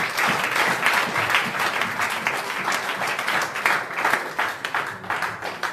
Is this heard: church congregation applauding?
yes